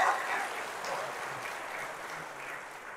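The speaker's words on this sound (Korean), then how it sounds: "여러분 박수 한번 쳐주세요." A church congregation in a Catholic parish gives a brief round of applause, strongest at the start and then fading into a softer scattered patter.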